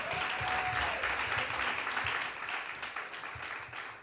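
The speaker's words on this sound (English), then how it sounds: "One more round of applause, Dr." Audience at a lecture series event gives steady, sustained applause, a thick wash of clapping from a crowded room with a faint whistle early on, easing slightly in the second half.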